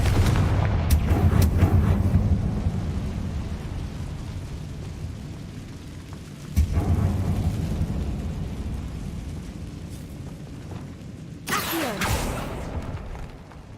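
A Confringo fire-blast spell in the Hogwarts Legacy game lands with several booming bursts amid a low continuous rumble, one sharp impact in the middle and a bright crackling explosion near the end.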